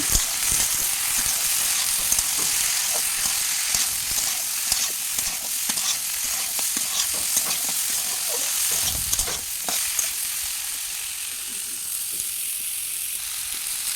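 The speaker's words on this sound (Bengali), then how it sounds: "হালকা লাড়াচাড়া দিচ্ছে হলুদ দিল জিরে গুঁড়ো" Turmeric and cumin powder being stirred in a frying pan, a steady sizzle with repeated scraping strokes of the spoon running throughout, fairly close, no voices.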